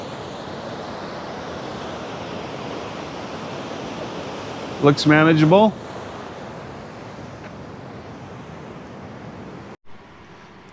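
A mountain stream at a Jeep track water crossing rushes as a steady broadband wash throughout, with someone speaking briefly over it midway.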